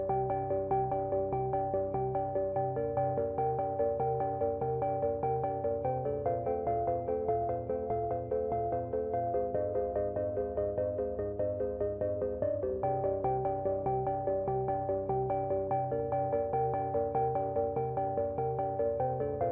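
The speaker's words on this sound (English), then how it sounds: "now I have a phone call" Phone ringtone from an incoming call during a space sandbox game stream, a steady harmonic melody looping continuously for about twenty seconds at moderate level, with no talking over it.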